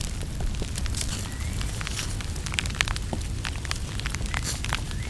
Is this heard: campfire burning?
yes